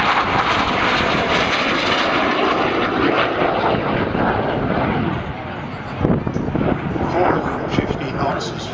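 Aircraft at the Point Cook Air Pageant banking overhead, a loud, full roar of engine noise that dips briefly and then surges back, with an announcer talking over it.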